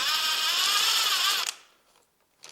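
A power tool on a Toyota Prius 1.5 AC compressor bolt: a loud, steady high-pitched whir for about a second and a half, then a quick stop and a small clink.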